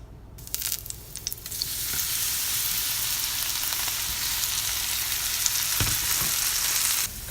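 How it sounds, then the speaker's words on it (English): Puffball mushroom fries in olive oil over medium heat, beginning with a few crackling pops and then settling into a loud, steady, close hiss of sizzling that runs nearly the whole time before a brief scrape near the end. "Cooked it on medium heat for about 5 minutes"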